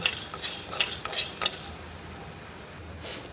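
Dry red chillies and bay leaf fry in a pan for a village-style rohu fish curry masala, with a few sharp scraping stirs and light sizzling early, then fading to a quieter hiss.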